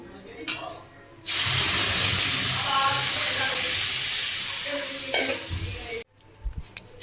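Water poured onto fried semolina in a hot pan sets off a sudden loud burst of hissing steam and sizzle that holds for several seconds, then cuts off, with quiet clinks before and after.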